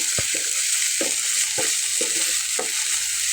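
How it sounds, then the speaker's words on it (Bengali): Minced meat sizzles loudly in a pan while a spatula stirs it in repeated short scraping strokes, a dense steady hiss close up with no voices. "একটু ভালো করে নাড়াচাড়া করে তারপরে আমি বাকি মশলাগুলো দেবো।"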